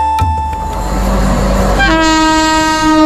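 A train sounds its horn at Shalimar station, a loud sustained blast that starts partway through and holds steady over the deep rumble of moving rail cars.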